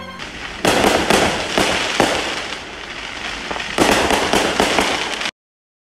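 Fourth of July backyard fireworks crackle and burst in dense, loud volleys, two main clusters of rapid pops with sharp individual bangs, ending abruptly.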